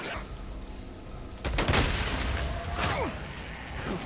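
Gunfire in the video game Days Gone, sounding as a burst of sharp, loud shots at about the midpoint with a few more scattered cracks afterward, over a steady rumbling game background.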